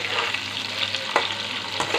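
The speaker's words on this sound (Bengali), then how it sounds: "তো ভেজে নিচ্ছি আলুটা" Salted potato pieces frying in hot oil, a loud, close, continuous sizzle with a couple of brief stirring scrapes.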